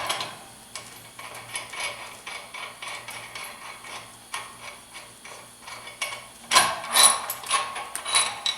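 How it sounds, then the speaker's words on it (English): A wrench loosens nuts on a high-pressure clamp with close, irregular ratcheting clicks in short bursts. The clicks grow louder and denser near the end. "I need to use the wrench on the other side to do the same thing"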